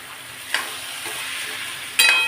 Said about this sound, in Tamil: இப்போது இதில் நம்ம சாபுதானாவை போட்டுடலாம் அதாவது ஜவ்வரிசியை போட்டுட்டு விடலாம்